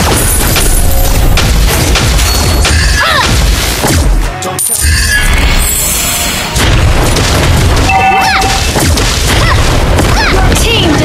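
A loud booming explosion as a turret is destroyed in the Mobile Legends mobile game, crashing and shattering amid dense game effects and music that stay loud throughout, with an announcer voice over it.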